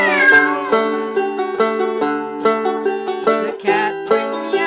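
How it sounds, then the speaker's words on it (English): A cartoon cat meows in a children's story, a sung, pitched meow with a steady melodic background of harmonic tones running under it throughout. "The cat went meow."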